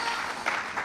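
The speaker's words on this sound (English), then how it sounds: "let's give a round of applause for that" Audience applause at a budget engagement roundtable, a steady wash of many hands clapping through the whole short burst, fairly even in loudness with slight swells near the end.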